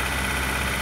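A VW Parati Surf G4 engine runs steadily during a decarbonization service, giving a constant, loud idling drone with no speech.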